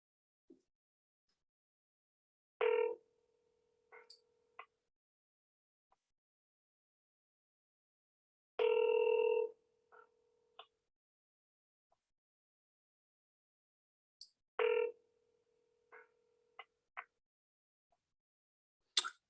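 An outgoing telephone call rings unanswered: three ringback tones sound about six seconds apart, with small clicks and silence between them.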